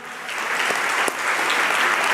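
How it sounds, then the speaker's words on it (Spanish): A church congregation claps together in praise, a steady wash of applause that swells slightly and holds at an even, moderately loud level with no voices standing out. "Denle un aplauso al Señor."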